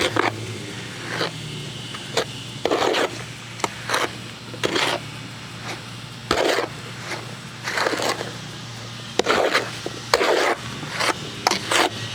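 Cementitious mortar is worked by hand for a Victorian porch repair, producing irregular bursts of gritty scraping and rubbing strokes, close and fairly loud, separated by brief pauses.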